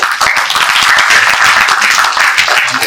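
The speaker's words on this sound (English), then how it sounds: "warm round of applause for Patrick for leading this" Warm applause from a conference audience at a SIGGRAPH panel session, a dense, loud wash of many hands clapping steadily throughout with no speech.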